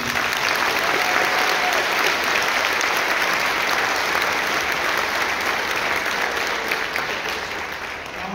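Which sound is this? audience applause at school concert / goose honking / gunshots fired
audience applause at school concert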